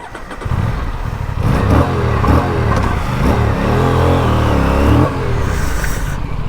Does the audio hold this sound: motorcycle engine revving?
yes